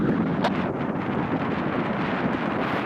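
Steady roaring south wind buffeting the microphone during paragliding, a dense continuous rush with faint gusty swells and no voices.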